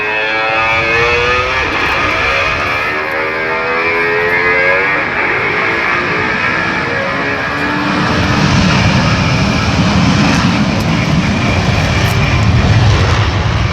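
Military jet aircraft with engines at afterburner during a formation takeoff at a naval air station airshow, a loud sustained roar with a rising then falling pitch sweep, the rumble deepening and growing heavier as the jets pass.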